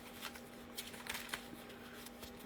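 Tarot cards get shuffled by hand in a quiet room, a soft continuous riffling and flicking with a few sharper snaps over a faint steady hum.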